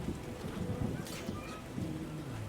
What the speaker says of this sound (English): It's really raining.